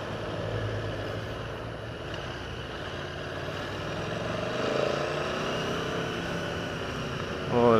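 A 2017 Aprilia Tuono Factory motorcycle engine drones steadily while riding, a continuous mid-pitched hum with wind noise that swells slightly near the end.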